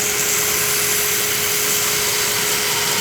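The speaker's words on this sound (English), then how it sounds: "And I'm doing this with a 36 grit belt because I don't want to be here all day" A belt grinder fitted with a coarse 36 grit belt shapes a hunting knife handle, giving a loud, steady, continuous abrasive roar with a constant whine and no talking.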